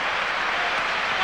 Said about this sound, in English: big round of applause here for Zidane